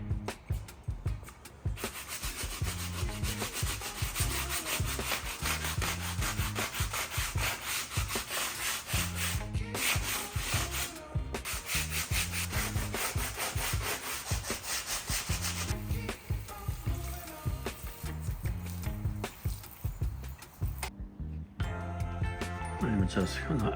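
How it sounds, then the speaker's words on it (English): A medium grit sanding pad scrubs an aluminum car rim in rapid, rhythmic back-and-forth rasping strokes, close and continuous for most of the stretch. "Medium grit sanding pad."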